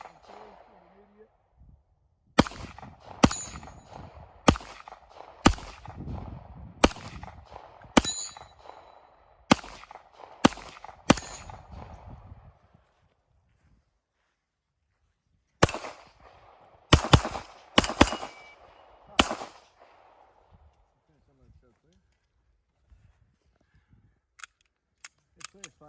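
Pistol shots ring out at a 3-gun shooting match, loud and sharp in quick strings of several shots, followed by a pause and another fast burst, with metallic clangs of struck steel targets trailing after.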